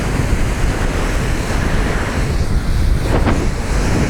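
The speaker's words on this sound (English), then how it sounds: "It's windy." Strong gusty wind roaring across the microphone with ocean waves and surf while riding an electric hydrofoil board downwind in a 20-knot easterly over a five-foot swell, loud and continuous with a brief splash near the end.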